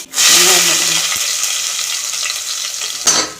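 Curry leaves hit hot oil for a fish curry with a loud burst of hissing sizzle that settles into a steady crackle, followed by a brief flare of spitting near the end.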